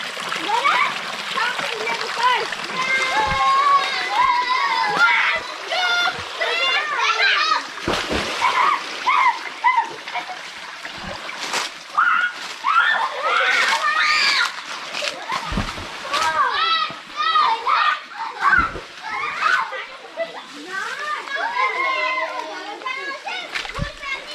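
Water let out from a farm well by an areca nut orchard splashes and sloshes continuously while children play and shout nearby, their voices layered over the steady spray.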